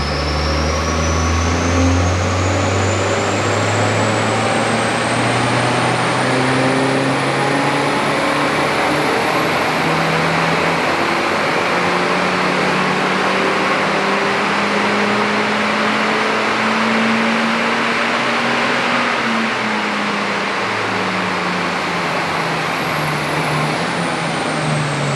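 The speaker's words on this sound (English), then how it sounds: "Let's spin it up and go for a power run." A Peugeot car strapped to a dyno revs loudly through a full power run, the engine pitch climbing steadily through the gears over about twenty-five seconds, with a high whine above it.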